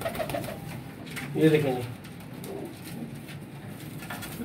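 A flock of flying pigeons in a loft coo softly in low, throaty bursts, with one fuller coo near the middle, while someone talks over them close by.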